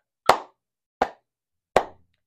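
Three sharp hand claps, evenly spaced about three quarters of a second apart, close and crisp with quick decay and silence between them.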